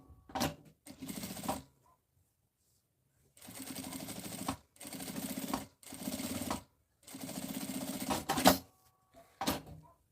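Sewing machine topstitching a seam on a fabric bag, several close, busy bursts of rapid mechanical stitching separated by short pauses, no talk over it.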